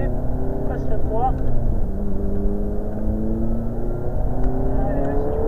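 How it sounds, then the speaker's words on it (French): A car engine drones and rises in pitch as it accelerates through the gears on a driving lesson, with a steady hum from inside the cabin while an instructor talks over it. "Allez, vas-y, tu peux accélérer. Passe la 3."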